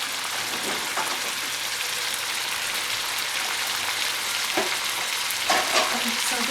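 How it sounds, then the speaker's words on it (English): Basmati rice fries in hot oil in a pan, giving a steady loud sizzle with a few stirring scrapes. It is close and continuous throughout, with no talk. "I'm going to start cooking the rice."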